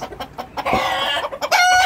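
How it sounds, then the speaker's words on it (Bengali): A crossbred Brahma rooster and its hens cluck at close range in short, uneven bursts, ending in a rising, drawn-out call. "আর এদের সাথে মোরগ আছে, এগুলো এই যে ক্রস ব্রাহ্মার মোরগ"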